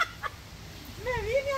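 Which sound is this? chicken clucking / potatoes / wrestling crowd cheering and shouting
chicken clucking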